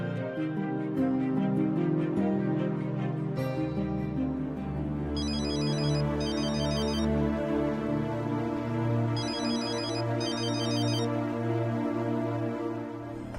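A phone ringtone plays a steady electronic melody, with bursts of high, rapid chirping tones repeating over it, loud and uninterrupted.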